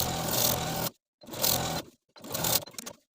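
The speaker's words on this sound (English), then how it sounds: "we're going to sew the pocket to the seam allowance about 1/8 of an inch away from the original stitching line" Sewing machine stitching a dress pocket to the seam allowance, three close whirring runs, each stopping abruptly with short pauses between, the last run stuttering.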